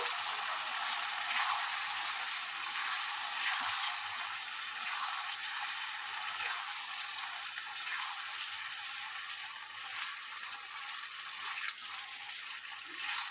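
Loitta (Bombay duck) fish frying in a hot pan for a spicy curry, giving a steady, close, dense sizzle that holds evenly from start to end with no talking.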